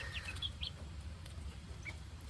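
Backyard chickens in a coop making soft, faint clucks and short chirps against a low background rumble, with no talking.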